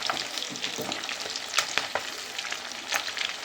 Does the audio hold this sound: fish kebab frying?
yes